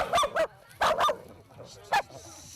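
A dog barks in short sharp bursts, two quick pairs and then a single bark, fairly close in an outdoor setting in Lovadina in the Treviso area, with quiet background between barks.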